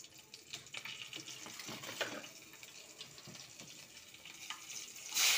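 Black cumin and green chili fry in a kadai with a steady sizzle and crackle, joined by brief stirring scrapes and a louder hiss at the end, close and moderately quiet, with no talk.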